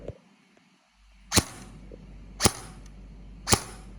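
An all-metal AKS-74N airsoft rifle, a Double Bell model, fires three sharp, snappy shots about a second apart, each a loud crack over a faint mechanical hum, close to the listener.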